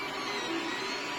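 An Anet A8 or Ender 3 Pro 3D printer running a long print, giving a steady, fairly faint whirring mechanical hum with a brief tonal whine in the middle, heard alone.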